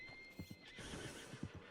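Horse in the Red Dead Redemption 2 game bolting away, a whinny followed by quick clip-clop hoofbeats in irregular bursts, fairly faint and moderately distant.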